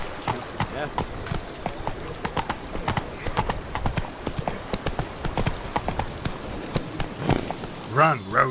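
Roach the horse gallops in The Witcher 3 with a quick, steady patter of hooves, close and continuous, and a brief whinny near the end while someone speaks.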